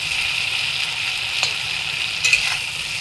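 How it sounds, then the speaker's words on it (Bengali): Potatoes frying in hot oil on a gas stove, heat turned up to brown them for a Bengali rohu fish curry: a steady, close hiss of sizzling with a couple of brief stirring scrapes, no voices. "আমি আলুটাকে আরও বেজে নেব একদম"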